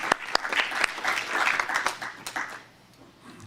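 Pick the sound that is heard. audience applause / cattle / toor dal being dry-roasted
audience applause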